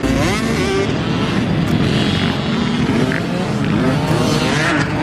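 A dirt bike laps a track at a Ryan Villopoto motocross camp, its engine a loud, continuous revving roar that rises and falls slightly, with no talk.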